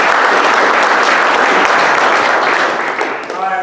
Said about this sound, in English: give Coach Budke from Chase County Bulldogs a round of applause